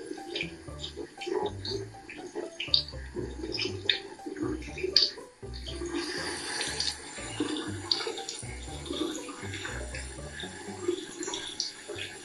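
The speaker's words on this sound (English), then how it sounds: "And rinse it off with water." A tap runs steadily while someone rinses lather from their face and neck, with splashing water and intermittent low handling sounds close by.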